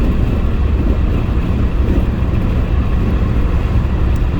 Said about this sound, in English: I want you to listen again to the wind